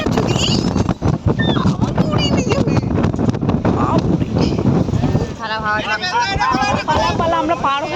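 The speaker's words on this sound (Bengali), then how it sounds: "প্রচুর তেজ হাওয়া দিচ্ছে।" Strong gusty wind buffets the microphone during a boat crossing of a river in stormy weather, a loud continuous rumble with people talking over it throughout.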